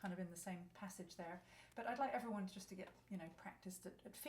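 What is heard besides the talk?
None of the usual background noises is heard.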